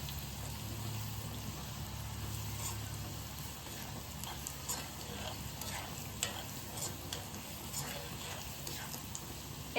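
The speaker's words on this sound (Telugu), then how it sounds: "వేడి వేడి నూనెలో మనం ఆవాలు, జీలకర్ర, వెల్లుల్లి," Mustard seeds, cumin, garlic and dried red chillies frying in hot oil for a quick mango pickle give a steady close sizzle with scattered pops and crackles throughout, under faint background noise.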